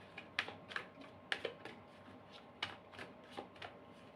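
Tarot cards shuffled and drawn at close range, a quiet series of soft papery flicks and snaps at an irregular pace, with no talking.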